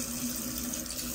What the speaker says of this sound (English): Face with water. Wash your face.